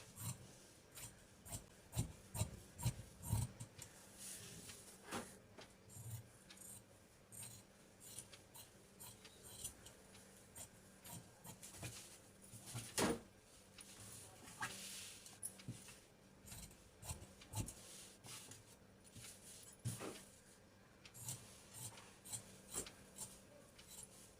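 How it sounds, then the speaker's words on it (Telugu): Scissors cutting blouse fabric for a loose front prince-cut blouse, quiet close-up snipping and rubbing in irregular bursts, faint and alone without talk. "ఇప్పుడు ఈ భాగాన్ని ఇలా కటింగ్ చేసుకోవాలి"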